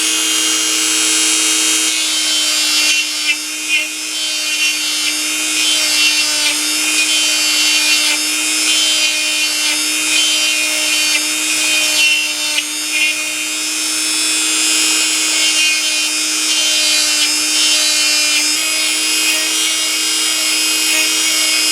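Brass part from a 1950s Record No. 4 hand plane being buffed with rubbing compound, a steady, loud, high-pitched whine of a polishing motor running continuously and close without pause.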